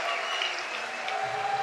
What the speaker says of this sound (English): And this crowd is erupted. Something to cheer about finally.